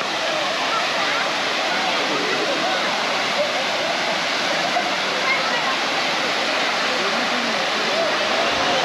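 A constant, dense rush of falling water, loud and unbroken throughout, from a waterfall into a small pool in Araku Valley, heard from close by.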